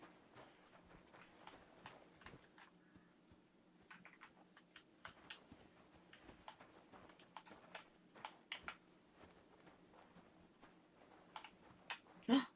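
Quiet, irregular hoof clops from a walking horse in Kingdom Come: Deliverance II, soft and fairly distant, with scattered ticking knocks and a brief louder thump at the end.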